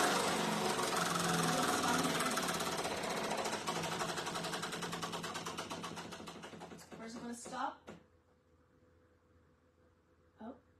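Black Friday prize wheel spinning, a rapid rattling clatter of pointer ticks that gradually slows and spaces out before stopping, followed by a couple of brief faint knocks in near quiet.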